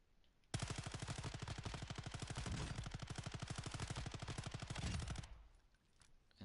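A full magazine emptied in one sustained automatic burst in the video game Call of Duty DMZ: rapid, evenly spaced shots for nearly five seconds, loud and close, then the fire stops abruptly and a brief tail fades.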